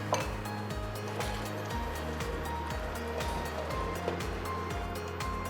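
A covered pot of curried, creamy sausage stew with added water simmers on the stove, a steady bubbling hiss broken by frequent small clinks and taps of the lid, close and fairly loud, with no talking.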